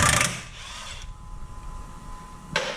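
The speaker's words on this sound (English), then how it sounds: "So we're first going to remove this bolt here. It's an 18 millimeter." An 18 millimeter bolt is worked loose on a dually truck, with short metallic ratcheting bursts at the start and end separated by near silence.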